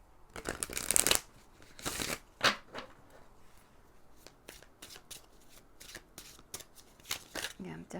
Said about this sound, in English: We're just going to shuffle, put all your decks, all your cards out